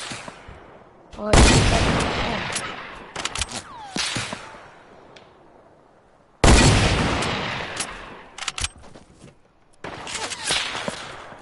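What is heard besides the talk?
gunfire in a video game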